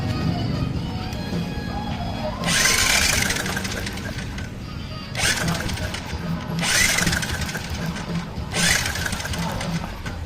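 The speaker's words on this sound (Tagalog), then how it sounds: "Gagamitan ko po ng electric starter" A Rouser 135 motorcycle engine with a wobbling, uneven cam gear is cranked on its electric starter in bursts, a steady mechanical running clatter broken by several louder whirring starter pulls, close up, with someone talking over it.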